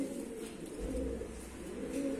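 Pigeons and doves coo steadily at a Turkish bird auction stocked with many kinds of birds, a low continuous cooing close by with no talk over it.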